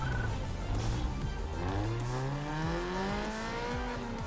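A race car engine in Need for Speed Underground 2 revs hard through the gears, its pitch repeatedly climbing and dropping with each shift, loud and continuous with faint tire noise and no talking.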